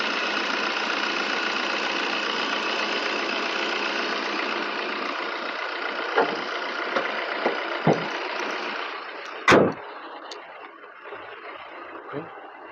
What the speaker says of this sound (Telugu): వెహికల్ రన్నింగ్లో ఉంది, ఇంజన్ రన్నింగ్లో ఉంది, ఎలాంటి స్మోక్ అయితే లేదండి.